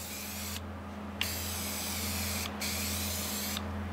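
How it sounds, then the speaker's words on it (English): A paint spray gun hisses in long continuous bursts with two brief pauses, fairly close, over a steady low hum, during work on a skoolie bus deck build. "is that like an extra attachment for spray and paint you can get?"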